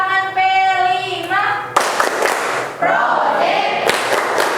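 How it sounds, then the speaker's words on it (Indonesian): A group in an Indonesian teacher-training session in Ambon does a rhythmic ice-breaker clap, with loud bursts of clapping alternating with voices chanting together. "Tepuk tangan P5."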